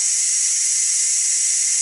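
Steam vents from a Ninja Foodi Deluxe pressure cooker on quick release while chicken legs and rice cook, a steady, loud, high hiss that holds unbroken from start to finish.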